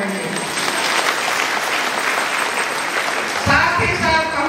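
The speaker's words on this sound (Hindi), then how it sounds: "तो हम लोग उस माँ के लिए जोर से हम लोग धन्यवाद ताली बजा के करेंगे।" Sustained audience applause fills a church women's association gathering on St. Monica Day in Gumla, 2024: dense, loud clapping throughout, with a voice rising over it near the end.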